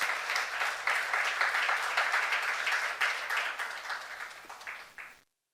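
A young adults' church congregation claps together in worship, a full, steady round of applause with distinct claps throughout that fades away and cuts to silence near the end.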